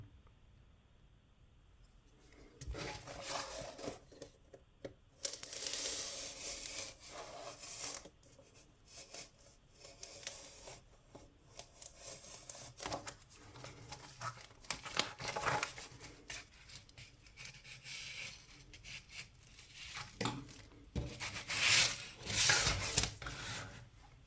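Unpacking an LED repair kit with its driver from cardboard packaging: rustling, rubbing and crinkling handling noises in irregular bursts, close and moderately loud, with sharper scraping toward the end and no speech.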